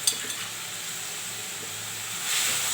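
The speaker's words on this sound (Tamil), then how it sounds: "இதை நல்லா வதக்கிக்கலாமாம்மா நல்லா சுருளாக வதங்கட்டும்" Onions or masala sautéing in a pan for a Tamil noodle dish, a steady soft sizzle with light stirring scrapes near the start and a brief rise in hiss at the end; no talking.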